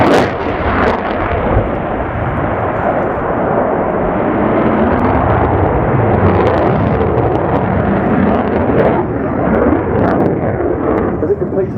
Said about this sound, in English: this is a huge aircraft, and it is flying at typical fast jet speeds of between 350 and 450 knots